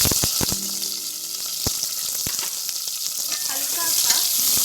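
Onions frying with whole spices in a hot pan, sizzling steadily and loudly, with sharp clicks and scrapes from a utensil stirring them.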